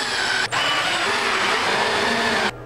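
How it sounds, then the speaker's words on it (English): A power drill drives a screw through a small drywall patch, giving a loud, steady, close whir of about two seconds with a short dip near the start. "Now screw it in place."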